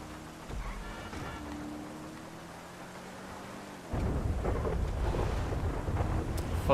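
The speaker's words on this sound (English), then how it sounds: "Thunder's back." Rolling thunder in the video game GTA Online, a low rumble that swells suddenly partway through and stays loud with crackling, rain-like texture over a steady background tone.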